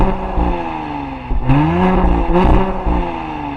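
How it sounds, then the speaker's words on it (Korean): An Audi SQ5's exhaust rumbles loud and close, with two quick revving rises in pitch over a steady engine drone. "과연 배기음은 어떤지 가볍게 한번 듣고 넘어가 보실게요"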